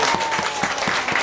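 An audience claps for the bass player during a live band session, with brisk, even applause throughout and a few louder individual claps standing out nearby.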